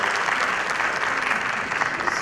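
Dense, steady applause from an audience greeting a guest at a certificate distribution ceremony for a school of IT, many hands clapping continuously at close range without pause.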